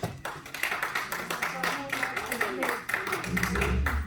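A church congregation claps rhythmically in praise, a steady run of close, sharp hand claps with voices speaking and singing over them.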